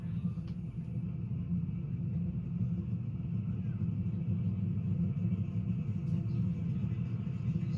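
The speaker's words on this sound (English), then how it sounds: "and so the cars will refire." Dirt-track race cars at Lakeside refire for a restart, a low, continuous engine rumble that stays steady and fairly distant throughout.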